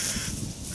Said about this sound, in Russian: Ой, вороны как раскаркались.